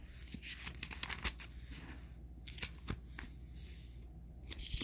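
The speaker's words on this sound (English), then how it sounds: "I just take a pretty much a long strip and then fold it in half" A long strip of tape being folded in half, close crinkly tearing and rustling sounds in quick irregular bursts, quiet and alone with no talk.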